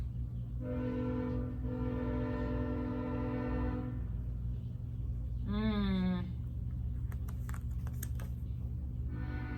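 A train passes with long, loud horn blasts in two sustained bursts, then a sliding tone, over a continuous low rumble of the rail cars, with faint clicking near the end.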